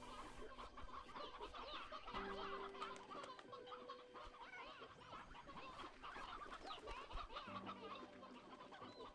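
Chickens cluck repeatedly in the farming video game Slime Rancher 2, a busy layer of close, overlapping bird calls over steady game ambience.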